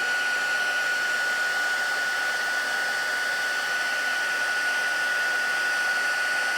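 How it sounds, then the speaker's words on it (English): A heat tool for embossing blows hot air in a steady, close whoosh with a thin high whine running through it, and no voices are heard. "I do like to keep my heat tool moving."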